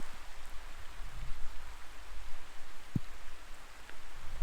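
Modest rain falling around a cyclist stopped on a road tour, a steady soft hiss of drops with a faint low rumble and an occasional sharp tap close by.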